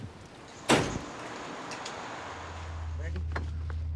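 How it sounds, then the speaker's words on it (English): A car door slams shut with a single sharp thud, followed by quiet movement and a low engine hum starting up, with people talking faintly nearby. "would you close the door, please?"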